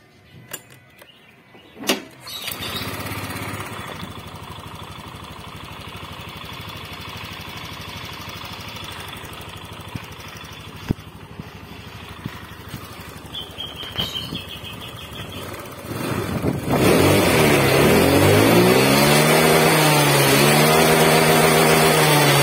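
A Honda Vario scooter with a faulty TPS sensor starts up after a few cranking sounds, then runs steadily close by, its engine note rising sharply into a loud, sustained rev toward the end.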